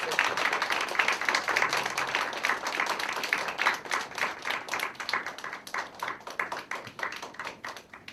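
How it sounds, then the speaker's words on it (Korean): A church congregation at a university-group worship service applauds to welcome a speaker, many hands clapping together, loud at first and then thinning into a looser, rhythmic patter. "우리 이 자리에 우리 멘토님 박수로 한번 모시겠습니다."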